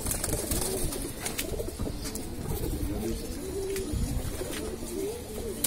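Pigeons in a large loft of tournament birds coo in low, throaty rolling phrases, several overlapping nearby with brief flutters and clicks between them.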